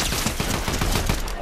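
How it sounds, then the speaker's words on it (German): Rapid bursts of gunfire in the Fortnite video game crackle continuously over a short stretch, with dense overlapping shots. "Die schießen auf uns!"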